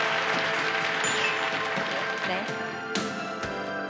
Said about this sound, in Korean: 여러분 등장하시는 동안 힘찬 박수 계속해서 부탁드리도록 하겠습니다